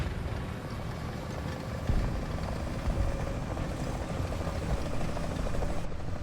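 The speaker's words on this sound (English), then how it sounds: "A helicopter, not ideal either." Helicopter rotor drone in a War Thunder tank battle, a steady dense mechanical chop under constant engine and battle noise, holding loud for several seconds with a slight lift partway through.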